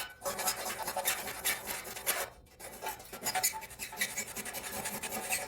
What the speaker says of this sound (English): And then this is the file work.